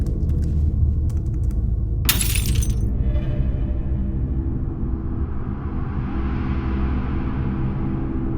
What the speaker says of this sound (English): some glass just broke in my kitchen and I wasn't even in there